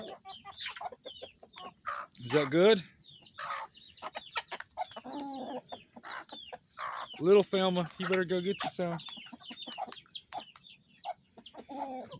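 Chickens cluck and squawk repeatedly near the microphone, with louder bursts now and then, while a person talks quietly among them.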